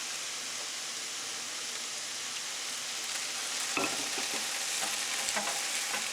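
Bread slice frying in butter in a pan for eye-in-the-middle toast, a close steady hiss of sizzling that swells slightly with a few soft scrapes and pops near the end.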